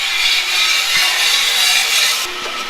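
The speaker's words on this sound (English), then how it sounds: "Gotta grind that off." Grinding on a custom steel exhaust pipe for an FJ45 rock crawler, a loud continuous abrasive hiss and whine that runs steadily before easing slightly near the end, with no voices.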